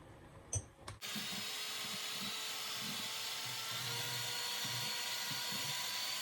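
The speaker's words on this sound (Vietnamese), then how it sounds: "Bây giờ thì mình sẽ đánh phần lòng trắng này cho nó bong lên" Electric hand mixer beating egg whites on the second of six speeds for a castella sponge cake, a steady loud motor whir running continuously after a brief start, with no talking.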